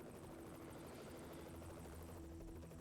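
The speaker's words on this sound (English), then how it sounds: "but he's got a helicopter now, look." Helicopter in the Knight Rider PS2 video game, a steady loud rotor whir and engine drone holding continuously throughout without talk.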